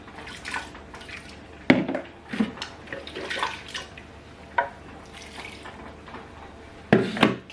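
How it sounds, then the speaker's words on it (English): Water splashes and sloshes close by as a blender jar used for akara bean batter is rinsed out, with irregular swirls and a few sharper knocks and splashes throughout. "I'm just going to rinse the blender out."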